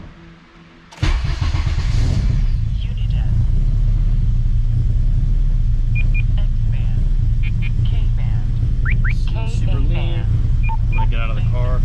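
An 8th-generation Honda Civic Si with a boosted engine cranks and catches after a quiet moment, then runs at a steady, loud, close idle while a person talks over it.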